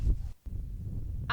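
A short honking call from geese, moderately close, heard briefly at the end after a stretch of low rumbling background in a park.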